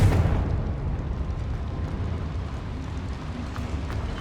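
A Confringo spell explosion in Hogwarts Legacy, set in a small mine: a dense, sustained low rumbling roar that stays loud and steady throughout, with no voices.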